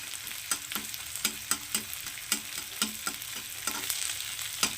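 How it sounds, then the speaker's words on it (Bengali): Cumin seeds fry in oil with chopped onion, a quieter sizzle punctuated by regular, distinct spatula taps and scrapes, roughly two or three per second, against the pan. "ফোড়নটাকে একটু ভাজা করে নেব"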